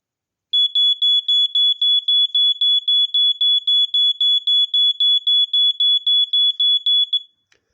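A vintage smoke alarm on a landing sounds off during a test, giving a long run of loud, evenly spaced high-pitched beeps that stop abruptly after about seven seconds.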